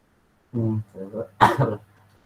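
A person coughs and clears their throat during an online university lecture. Close, throaty bursts come in a short cluster of three, with a sharper cough in the middle and silence on either side.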